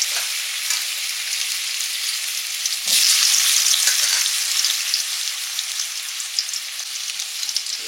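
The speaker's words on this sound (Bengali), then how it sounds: "তেল গরম হয়ে গেছে, কালো জিরে দিয়ে প্রথমে আলুগুলো দিয়ে দেবো" Potatoes fry with black cumin in hot oil, giving a steady, close sizzle that swells briefly louder partway through, with no talking.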